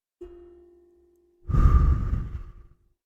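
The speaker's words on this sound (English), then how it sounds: "Now exhale." A person doing a guided breathing exercise lets out one long, audible exhale lasting about a second, breathy and close, after a brief faint tone at the start.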